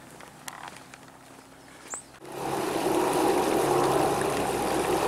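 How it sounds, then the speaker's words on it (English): Water rushes steadily in a stream outdoors, rising abruptly partway through to a broad, loud continuous wash after a quieter stretch with a few faint clicks. "The sound of water is awesome."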